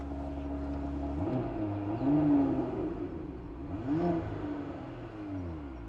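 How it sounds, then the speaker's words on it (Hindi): A 2026 Audi RS5 V6 on a cold start gives a steady low exhaust drone, swelling in two brief revs near the middle and end, close and continuous with no talk. "V6 इंजन की साउंड है।"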